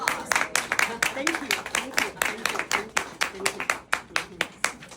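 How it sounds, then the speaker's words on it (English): Audience clapping for a floral artist's finished ikebana arrangement at an Ikenobo Society demonstration, a steady close patter of many hands with a voice talking over it. "Let's give Joanna a round of applause."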